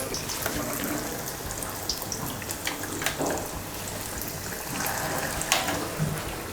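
Batter-dipped purnam boorelu dough balls drop into hot oil and fry. A steady, close hiss of sizzling runs throughout, scattered with small pops and crackles.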